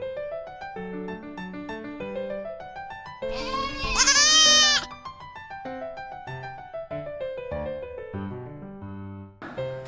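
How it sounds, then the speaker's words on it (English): A goat bleats loudly in a wavering, drawn-out call near the middle, set amid a quiz about classifying animal and environment sounds, with soft background music throughout. "That is the sound of a goat."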